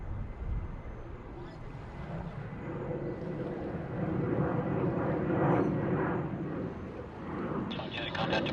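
A Qantas aircraft landing at Sydney Airport, a sustained roaring engine rumble swelling and fading across the clip, with radio talk over it.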